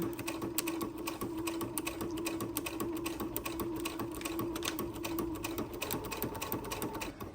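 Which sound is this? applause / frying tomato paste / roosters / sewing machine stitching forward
sewing machine stitching forward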